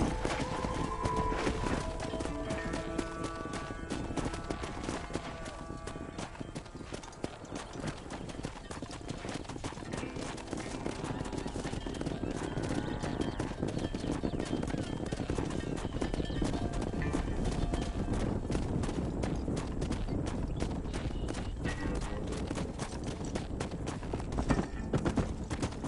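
Horse hooves gallop in Red Dead Redemption, a steady clip-clop rhythm with occasional whinnies, loud and continuous over a busy game soundtrack.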